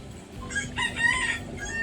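A rooster crows in the middle distance, a single drawn-out call rising and falling over a quiet outdoor background.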